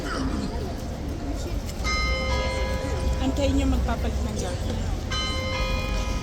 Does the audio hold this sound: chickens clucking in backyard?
no